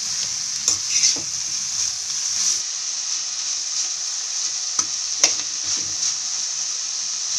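Cabbage, carrot and capsicum stir-frying for street-style noodles, a steady bright sizzle punctuated by a few sharp clanks and scrapes of the utensil against the pan, close and unaccompanied by speech.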